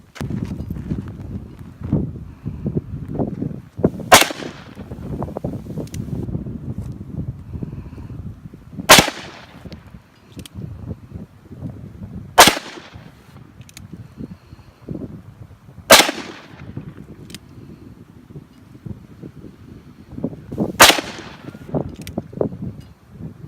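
.357 Magnum revolver fired outdoors at a metal disc brake: five sharp, loud shots spaced several seconds apart, each with a ringing metallic tail, over wind and handling noise.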